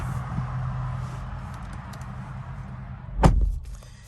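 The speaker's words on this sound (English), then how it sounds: "we'll hop into the vehicle and we'll shut the door" A 2022 Kia Sorento SUV door shuts with one solid, close thud, after a few seconds of quiet rustling and low vehicle ambience.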